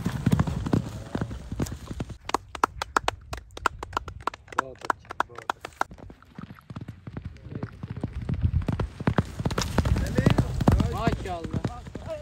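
Horse hooves clip-clop in quick bursts at a village tent pegging (neza bazi) event in Pakistan, with the horse's rhythmic trotting, crowd noise and people talking throughout.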